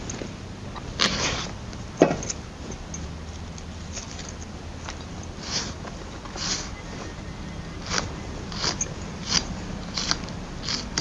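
An onion sliced with a knife on a board gives a steady run of soft, crisp cutting taps and crunches at close range, irregular in rhythm, with no voices over it.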